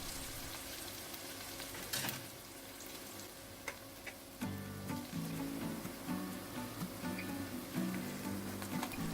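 A chive pancake fries in a pan just after flipping, a steady quiet sizzle with soft crackles and pops, light clicks from the pan and faint background music, no talk.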